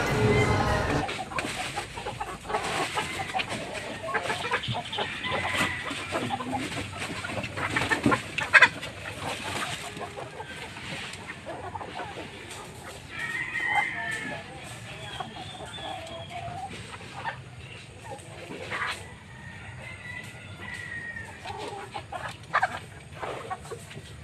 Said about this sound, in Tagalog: o tingnan mo yung ating chicks